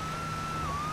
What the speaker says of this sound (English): police car up ahead